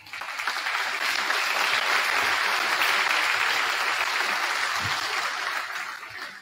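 A high school graduation audience claps loudly in dense, sustained applause that swells in quickly, holds steady and tapers off near the end.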